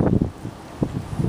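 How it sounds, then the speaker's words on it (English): Gusts of wind buffet the microphone in low rumbling bursts, uneven and close, with no other clear sounds. "probably gonna be hearing a lot of wind in this video"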